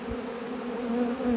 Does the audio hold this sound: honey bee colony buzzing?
yes